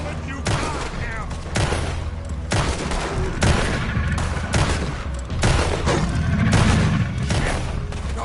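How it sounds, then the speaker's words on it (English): Heavy, sustained volleys of gunfire in Red Dead Redemption 2, repeated loud blasts and booms spaced roughly a second apart over a dense background of battle noise and music, with voices mixed underneath. "Put every bullet you got now!"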